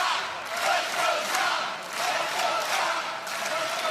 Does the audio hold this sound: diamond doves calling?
no